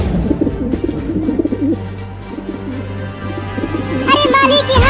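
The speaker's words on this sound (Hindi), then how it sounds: "वो सब कबूतर हमारे दाने को खाने के लिए नीचे उतर रहे हैं।" Pigeons coo softly and repeatedly in a cartoon, amid a steady low hum and background voices, with brighter bird calls rising near the end.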